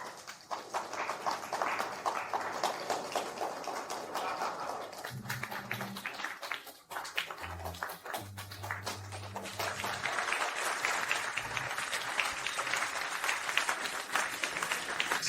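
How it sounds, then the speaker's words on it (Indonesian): Wedding guests applaud as the bride is welcomed at the reception, a sustained crowd clapping that runs throughout. A few low thuds break in partway through, and the clapping swells again toward the end. "Mari beri tepuk tangan."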